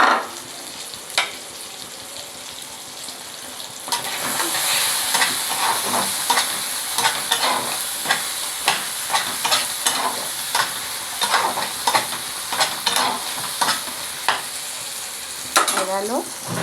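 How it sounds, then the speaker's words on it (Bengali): A dish simmering and sizzling in a pan on the stove, with a steady bubbling hiss and repeated scraping stirs of a spoon; close and fairly loud, with no talking. "ফুটছে।"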